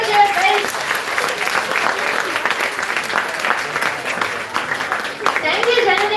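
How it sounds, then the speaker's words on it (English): An audience claps and cheers loudly after a stage performance at a Sunday morning college event, with steady applause and some voices rising through it, continuing without a break for about six seconds. "How was the performance? Give a cheer, guys."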